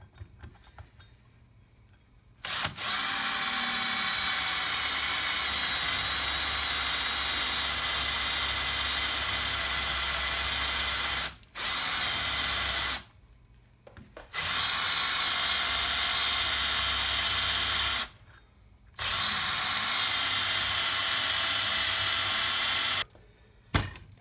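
A blunt drill bores into metal while fitting an Ashcroft locker differential, a steady loud whine running in long stretches broken by several short stops.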